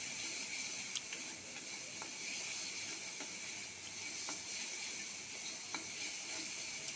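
Masala spices frying and sizzling in a pan for a pabda fish curry, a steady bright hiss lasting throughout with occasional faint clicks and pops, close and continuous with no talking.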